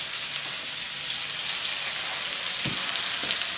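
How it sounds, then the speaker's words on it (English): Diced chili peppers with sliced garlic sizzling in a hot pan, a loud, dense, even crackle that holds steady throughout, with a couple of faint low knocks. "We're going to throw in our chili peppers that we just diced."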